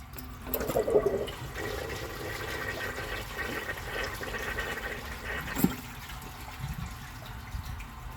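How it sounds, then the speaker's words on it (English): A 1994 Eljer toilet flushes during a flush test, a near, continuous rush and gurgle of draining water with a sharp clunk partway through before the bowl quiets to a trickle of refilling. "It's always the toilets with the tiny trapways. They just cannot take bags."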